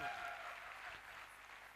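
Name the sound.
audience applause, clapping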